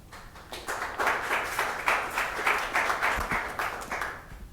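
Audience applause at a Greater Boston Food Bank gathering: a brief burst of moderate clapping swelling and holding steady for a few seconds, with no talk over it.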